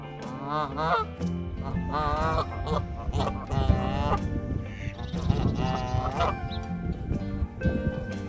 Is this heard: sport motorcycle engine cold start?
no